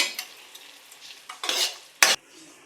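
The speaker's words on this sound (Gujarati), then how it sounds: "આવી રીતે આપણે 2 મિનિટ માટે હલાવશું" Mawa from cream being stirred in a pan for penda as ghee separates, a few brief scraping strokes and soft sizzles with a louder scrape near the end, close and with no talking.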